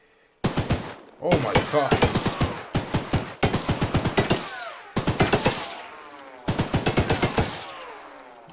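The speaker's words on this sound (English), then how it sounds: "A freaking minigun in the back." A minigun in the Choo Choo Charles video game fires in several loud, rapid bursts separated by short pauses, with a brief startled exclamation from a player in between.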